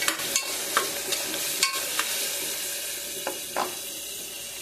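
Ice apple palm fruit curry cooking in a pan, a steady soft sizzle with a spoon stirring and scraping in several separate strokes, close and fairly quiet.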